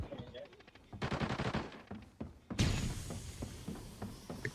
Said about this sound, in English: Shots at motel.